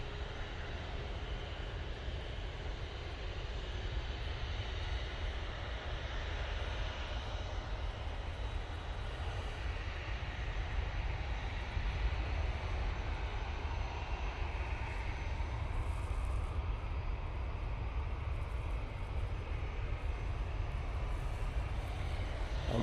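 An Airbus A350-900 arriving from Singapore passes at a distance, a faint, steady jet engine rumble held under wind noise for the whole stretch, with no speech.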